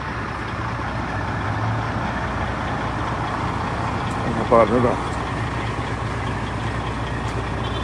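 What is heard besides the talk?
trucks and vehicles passing by on the road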